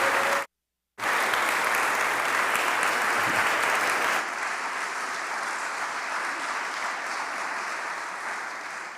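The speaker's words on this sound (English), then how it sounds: "A round of applause for Dr. Bennett." Steady, dense applause from an audience honoring a speaker at a health equity event, broken by a brief dropout near the start, then continuing slightly softer to the end.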